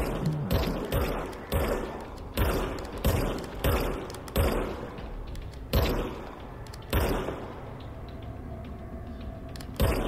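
Repeated gunshots from a handgun in the video game Control, fired in irregular bursts of single cracks over a steady mechanical hum, with no talk.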